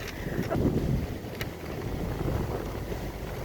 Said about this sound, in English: It's so windy, oh my gosh.